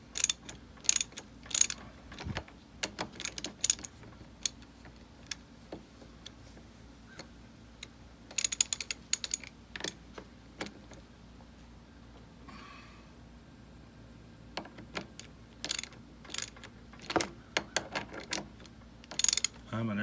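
Bolts being tightened on a Honda 250SX three-wheeler's front wheel, heard as irregular bursts of close ratchet clicks and metallic ticks separated by quiet pauses, with no talking.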